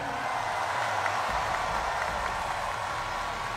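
A political rally audience gives loud, sustained applause, a dense and even wash of clapping from a large crowd with no break.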